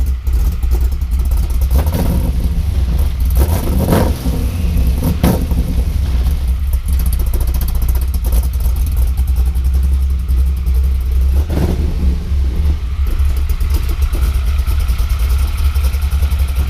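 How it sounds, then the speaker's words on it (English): A loud, rumbling cammed car engine with straight pipes idles with a lumpy, uneven beat, broken by a few sharp revs. No one speaks. "So it sounds like a typical cammed engine. Give it a little throttle, Talon."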